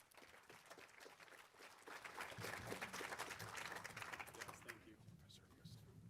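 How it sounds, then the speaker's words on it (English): Audience applause for Professor Daniel McDonald at a regional economic summit in Hemet, a steady patter of clapping from a roomful of people that swells, holds for several seconds, then thins out. "Everyone, round of applause for Professor Daniel McDonald."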